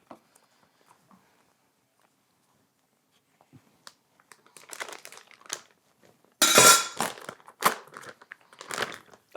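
A plastic bag holding steak and marinade is squished by hand, with soft crinkling and wet squelching that starts faint, then comes in close, irregular bursts, the loudest midway.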